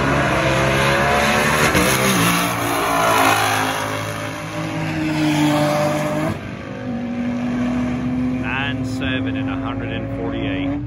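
Twin-turbo Ford Mustang GT exhaust accelerating hard, a loud continuous engine roar with rising pitch and a brief dip as it shifts gears, someone talking over it throughout.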